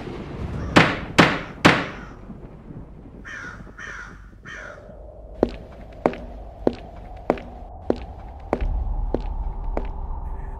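Three sharp, loud knocks of a judge's gavel ring out early, then a steady series of lighter, evenly spaced taps, with cawing crows in the background.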